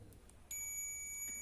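A multimeter set to its continuity buzzer range gives a thin, high, steady beep. The tone starts abruptly after a short quiet moment and holds to the end over faint background noise.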